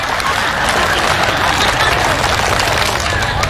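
A seated audience at a lively religious lecture does the rhythmic Pramuka scout clap, a dense burst of many hands clapping in quick patterns that fills the room, with crowd voices mixed in.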